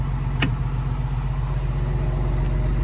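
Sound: industrial generator engine running

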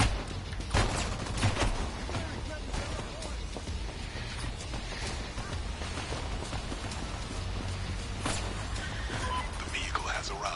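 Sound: gunfire in video game Crime Boss Rockay City

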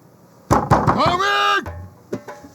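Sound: knocking and banging on a door

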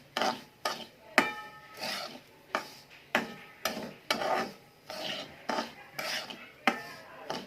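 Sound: semolina being stirred and roasted in a pan

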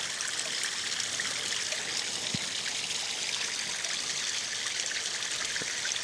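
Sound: water flowing through pond filter during back flush

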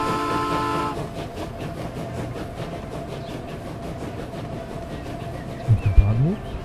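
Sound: trains departing station in video game Transport Fever

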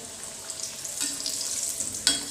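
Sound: vegetable spring rolls frying slowly on medium heat

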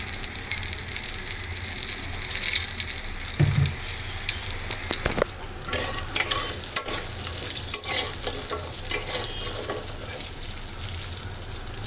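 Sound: frying dried pumpkin lentil dumplings in oil

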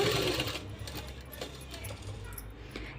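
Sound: sewing machine stitching cut work on a frock

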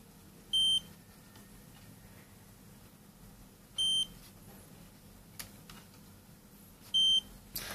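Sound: beeper on a Sparkfun module with a 180-ohm series resistor

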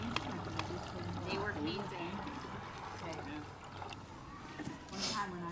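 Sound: apple cider pouring from press into bucket

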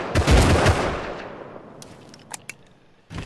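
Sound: gunfire in a video game

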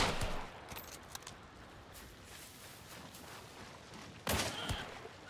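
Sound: gunfire in the video game Hunt: Showdown

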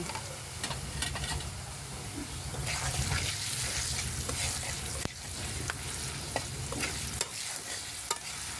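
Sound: potatoes frying in pan with salt and turmeric

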